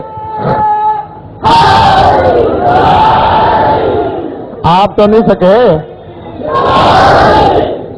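A crowd at a majlis shouts religious slogans in call-and-response bursts: a voice leads between loud, full-throated group chants, with several short rhythmic shouts near the end and a final swelling chorus.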